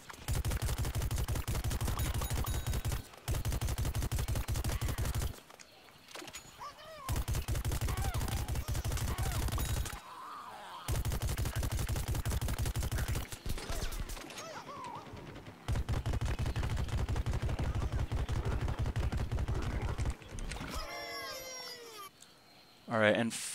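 Full-auto peashooter fire in the Plants vs Zombies Garden Warfare video game: long, dense bursts of rapid shots separated by short pauses, loud and continuous, with game effects and bits of chatter in between.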